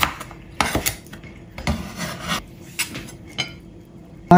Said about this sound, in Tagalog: So, ganyan lang ang gayat natin.